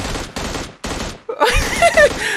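Bursts of rapid automatic gunfire from the PUBG Mobile battle royale game, with two short close volleys separated by gaps, then a denser, louder stretch of firing layered with a voice.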